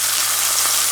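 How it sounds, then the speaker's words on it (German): Halloumi cheese frying in a pan gives a dense, steady hiss of sizzling fat, close and loud, with no voices. "einmal in die Pfanne und von beiden Seiten anbraten"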